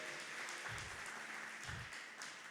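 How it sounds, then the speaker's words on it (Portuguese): A church congregation claps continuously, a faint, even wash of applause at a distance with low thumps underneath. "Você pode aplaudir o nome do Senhor?"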